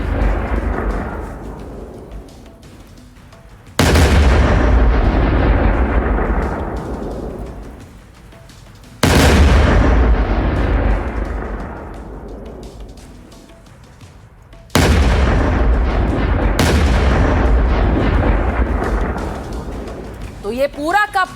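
Israeli strike on Hezbollah positions: four heavy booming blasts, each striking suddenly and then rolling off into a long rumbling decay, loud and distant-sounding, with a brief voice at the very end.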